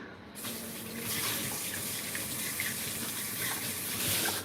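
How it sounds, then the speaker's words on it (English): Warm water runs steadily from a tap to bathe a cat during a lion-cut grooming session, a continuous close gushing flow with no talking. "Alright, let's get the water nice and warm."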